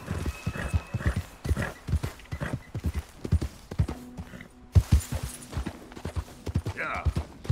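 Horse hooves clip-clop steadily in Red Dead Redemption 2, a rapid, close rhythmic beat of hoof strikes that runs throughout, with a brief whinny and faint game ambience beneath.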